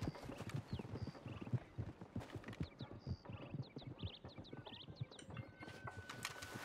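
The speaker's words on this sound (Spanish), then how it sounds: "Caballos." Video game hoofbeats clop along at a trotting pace in a 1920s-set Red Dead roleplay, close and clear, with brief chirping calls and a soft whinny above them.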